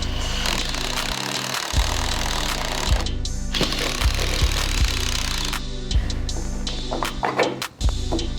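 A power tool drives bolts for an arborist climbing rope anchor in a home garage, a loud continuous mechanical whir with repeated sharp impacts and shifts in pitch, close up with no voices.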